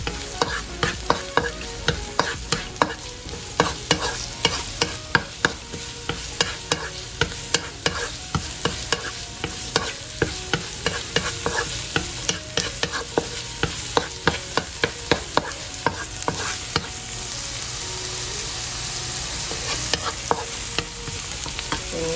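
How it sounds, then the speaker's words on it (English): Garlic sautéing in a hot pan with onion for a pork empanada filling, a steady sizzle under frequent sharp scrapes and taps of stirring throughout, with no voices. "Saute the garlic."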